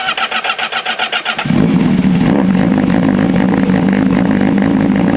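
After repair, the Honda CBR 1000RR-R Fireblade SP's engine is cranked by a rhythmic starter whir, then catches and settles into a loud, steady, throbbing idle that continues to the end with no talk.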